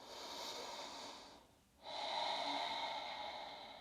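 A person doing gentle yoga breathes deeply and audibly, one long airy breath, a short pause, then another full breath close up.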